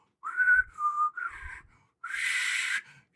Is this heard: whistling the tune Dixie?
yes